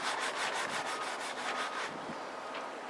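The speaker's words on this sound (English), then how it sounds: "I need to do some of this sanding right about here, so there we go." Steady back-and-forth hand sanding of wood with a mesh abrasive disc, a close, rhythmic scratchy sound that runs continuously and then eases off.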